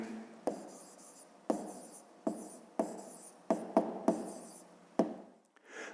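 Numbers written out by hand with a pen on paper in a math exercise, a series of distinct scratchy strokes separated by brief pauses, close and fairly quiet, with no speech.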